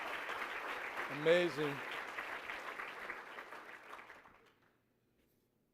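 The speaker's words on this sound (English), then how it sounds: "we had one more round of applause for the District Teachers of the Year, please." Audience applause for the District Teachers of the Year at a Delaware Teacher of the Year ceremony, a steady wash of clapping that tapers off and ends, with a brief spoken exclamation over it.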